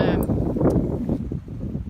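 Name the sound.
wind blowing outdoors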